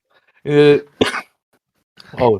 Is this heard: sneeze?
yes